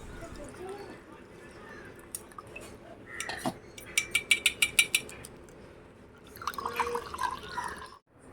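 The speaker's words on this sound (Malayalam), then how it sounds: "ഇത് പഞ്ചസാര ഇട്ടടിച്ച വെള്ളത്തിനകത്തോട്ട് അരിച്ചൊഴിക്കും" Lemon, mint and ginger water is strained into sugar water: a run of quick drips and trickles with light metallic clinks of utensils, fairly quiet and close, with a soft voice in the background.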